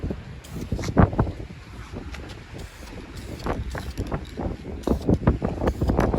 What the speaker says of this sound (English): Little windy out here.